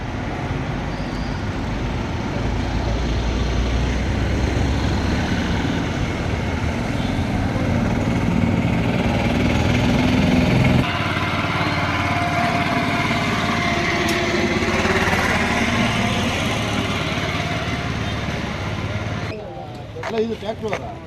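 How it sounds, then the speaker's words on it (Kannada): A tractor engine runs steadily at a roadside accident scene in Karnataka, with a continuous close engine drone and background voices throughout. "ಇದು ಟ್ರ್ಯಾಕ್ಟರ್"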